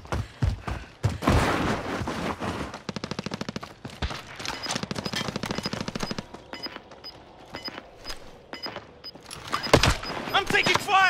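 Rapid bursts of automatic gunfire and scattered shots in a tactical shooter video game, loud and continuous with brief pauses, while players talk over the combat.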